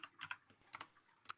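Keys on a computer keyboard are struck in quick, close clusters of clicks, with short pauses between bursts, as a command is entered at a Linux command line; the typing is close and clear, and no one speaks.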